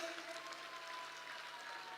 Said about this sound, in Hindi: जोरदार तालियों से नेताजी का स्वागत करिए।